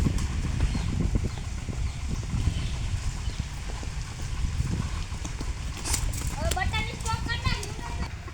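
Hooves of an aging mare clip-clop in a steady rhythm close by, mixed with wind and handling noise, while someone talks over the steps and a few high chirping sounds come through near the end.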